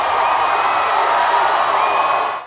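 A theatre-style crowd cheers and whoops continuously from the film Joyful Noise, a dense, loud wash of voices sustained for a couple of seconds before easing slightly at the end.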